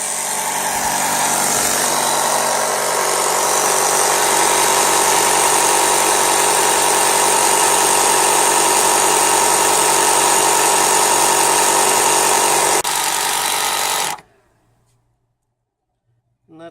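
A battery jump starter's built-in air pump drones and vibrates steadily while inflating an 18-inch front tractor tyre, loud and close for about fourteen seconds before cutting off abruptly into near silence.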